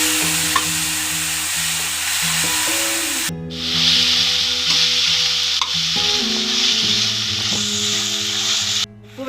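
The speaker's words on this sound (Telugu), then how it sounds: "ఇప్పుడు టమాటా వేస్తాం." Tomatoes dropped into hot oil with frying onions, green chillies, bay leaves and curry leaves, giving a steady sizzle with scraping and stirring noises over it and a brief hiss near the end.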